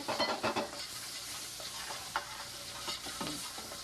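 Crushed fresh garlic sautés in a pan and is stirred, sizzling softly with a few scraping stirs near the start and later, without any voices.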